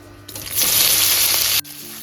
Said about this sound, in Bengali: পেঁয়াজটা একদম দেখো লাল লাল করে ভেজে নিয়েছি